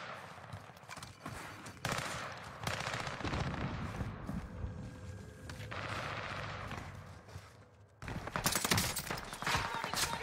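Gunfire in the Call of Duty Warzone video game, quiet bursts of automatic fire and scattered shots crackling through a busy, continuous game soundscape.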